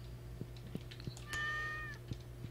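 A cat in the Stardew Valley farming game gives one short, faint meow over a steady low hum and soft, regular clicks.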